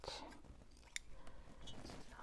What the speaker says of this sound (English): Scissors, here we go.